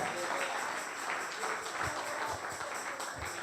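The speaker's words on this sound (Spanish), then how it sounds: "Vamos, denle su ofrenda de aplauso al Señor." A church congregation applauds during a Spanish-language sermon, a steady wash of scattered clapping at moderate distance with a faint voice or two underneath.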